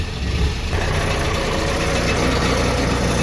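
A truck idles close by with a steady, loud, low rumble that runs the whole time; a loose piece of metal tinging against the exhaust pipe underneath is not clearly separable from the engine drone.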